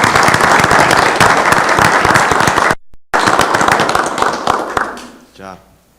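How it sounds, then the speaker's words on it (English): A crowd at a city commission meeting claps loudly and steadily, pauses for a moment, then resumes before tapering off into a few scattered claps. "let's give them a big round of applause for it."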